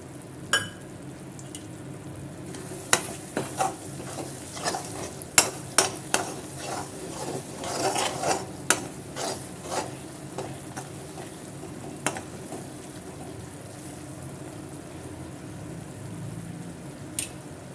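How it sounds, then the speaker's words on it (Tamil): Andhra kara chutney stirred and frying in sesame oil in a pan: a low steady sizzle with scattered scraping and clinking spoon strokes, irregular and close, no voices. "மிச்சம் உள்ள நல்லெண்ணையும் சேர்த்து போனப்போல் நல்லா கலந்து விட்டுக்கலாம்"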